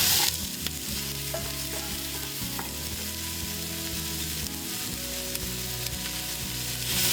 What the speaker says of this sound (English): Add your onion, peppers,